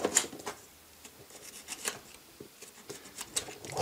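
A knife trimming a plastic leg part of a vintage Henshin Cyborg toy, quiet close-up scraping and cutting strokes in short irregular bursts.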